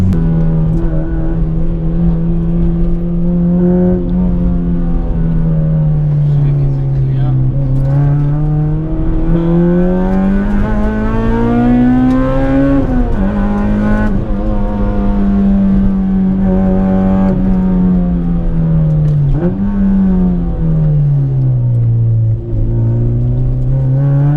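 A Honda Integra Type R DC5 accelerates hard through the gears, its engine note rising steadily, dipping briefly at each shift, then climbing again, loud and continuous from inside the car.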